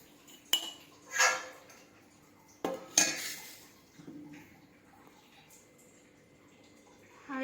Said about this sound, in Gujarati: હવે આપણે એક તપેલીમાં ખીરાને કાઢી લઈશું